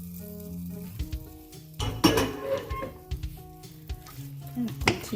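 A spoon scrapes and clinks around a bowl while queen cake batter is mixed by hand, with irregular close stirring strokes, soft taps, and occasional louder knocks against the bowl.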